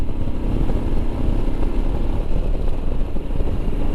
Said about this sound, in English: Look at this, a Himalayan overtaking up the hill, eh?